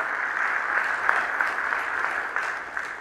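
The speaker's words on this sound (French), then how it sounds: "j'aimerais vous demander d'applaudir fortement ceux qui m'ont précédé à la tribune" Forum audience at an international economic forum in Madagascar applauds loudly and steadily, a dense wash of clapping throughout with a few sharper claps standing out, no voices over it.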